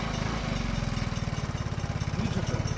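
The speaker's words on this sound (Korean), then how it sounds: "엔진에서 이상한 소리 나네?" A motorcycle engine running with a strange fault, a steady rapid mechanical chugging pulse close by, fairly quiet with no talk.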